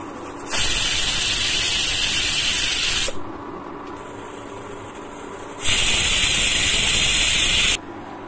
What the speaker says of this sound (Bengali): এবার এটাকে ঢাকা দিয়ে 2টো সিটি দেব